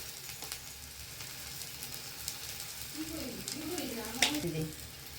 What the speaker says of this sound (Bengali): দিয়ে একটু টেলে নেবো, জাস্ট একটু টেলে নেবো